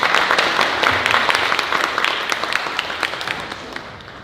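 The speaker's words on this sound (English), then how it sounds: "Can y'all please give the panelists a little round of applause?" An audience at a panel discussion breaks into applause for the panelists, a dense, loud patter of many hands that gradually thins and fades over several seconds, with a faint voice underneath.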